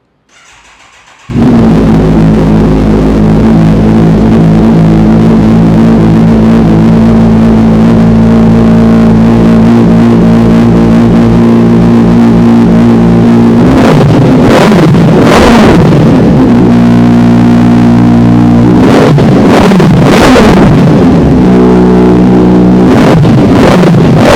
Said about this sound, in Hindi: गाइस बहुत ही खतरनाक आवाज़ है इस बाइक की।